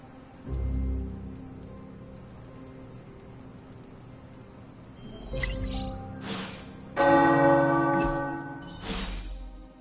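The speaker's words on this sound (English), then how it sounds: "The tower bells are ringing." Large tower bells in the video game Midnight Suns ring out in several loud, resonant peals that swell and overlap, with a low ambient hum and a faint early chime before them.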